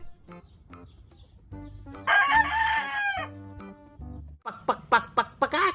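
A rooster crows once, loud and close, with a drawn-out cock-a-doodle-doo, followed by a quick run of sharp clucks, with quieter clucking before it.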